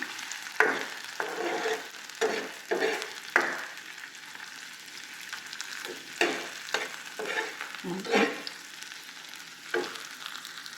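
Fish browning in oil in a frying pan, a continuous soft sizzle with repeated spatula scrapes and stirring bursts, close and moderate in level, no voices.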